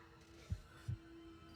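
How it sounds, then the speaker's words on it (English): Two soft, low heartbeat thumps sound about 0.4 seconds apart inside quiet background music with a steady hum, faint and muffled, and no voices. "the music changed to heartbeats"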